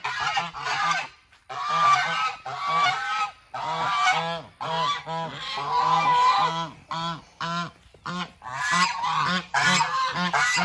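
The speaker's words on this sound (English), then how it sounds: "I'm not really sure why we decided to keep the geese, but we kept them. And they are noisy" Several geese honk loudly and repeatedly, their harsh nasal calls overlapping in bursts with brief pauses between, close by and without talk.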